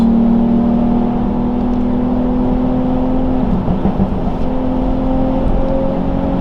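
A tuned Infiniti Q50 heard from inside while driving gives a loud, steady engine and exhaust drone with a constant low hum and little change in pitch.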